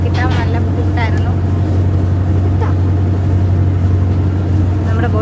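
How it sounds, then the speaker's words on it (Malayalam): Houseboat engine running as the boat moves along a Kerala backwater, a loud steady low drone throughout with brief higher whirring bits on top. "ബോട്ട് നീക്കി തുടങ്ങിയിട്ടുണ്ട്."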